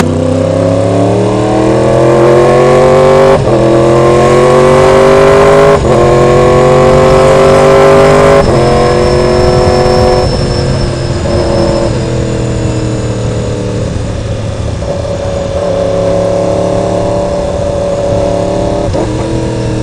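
Motorcycle engine ridden through downtown Atlanta traffic, loud and close, revving and dropping through gear changes with a strong harmonic drone, then settling into a steady cruising hum for the rest, with no talk over it.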